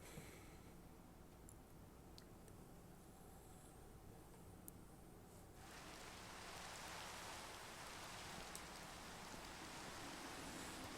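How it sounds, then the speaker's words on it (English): Steady rain hiss in Minecraft, a video game, with the downpour thickening and growing louder partway through and then holding as a dense, even wash of noise with no talk. "I'm going to sleep to get rid of the rain"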